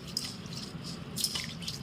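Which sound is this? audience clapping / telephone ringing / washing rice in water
washing rice in water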